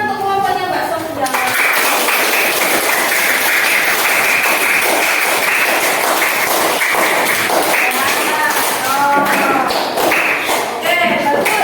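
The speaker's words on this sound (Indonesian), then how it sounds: "Beri tepuk tangan untuk kelompoknya Mbak Sofia." Participants in a teachers' training session in Kulon Progo applaud a small group, with a brief voice at the start before dense, sustained clapping. Voices can be heard faintly over the applause near the end.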